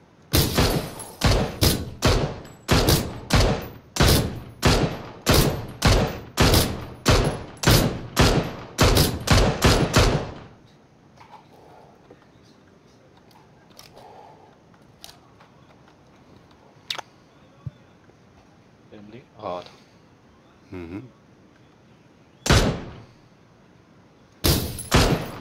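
Rapid bursts of PUBG gunfire crack out as a dense rhythmic string of loud shots for about ten seconds, then a quieter stretch with a few scattered distant shots and two late loud reports.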